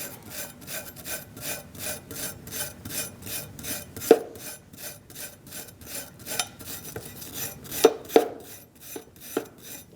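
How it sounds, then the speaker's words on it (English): A wire brush scrubs the rear brake bracket of a 2008-2014 Mercedes-Benz C300 in fast, steady rasping strokes, close and even, with a few sharper metallic knocks mixed in and no talk. "Use a wire brush and start cleaning up your bracket."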